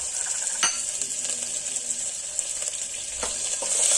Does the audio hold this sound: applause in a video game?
no